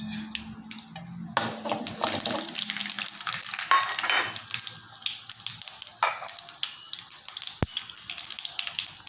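Fennel and mustard seeds sizzle and crackle in hot oil at close range, with stirring and a bit of utensil clatter over the steady frying hiss.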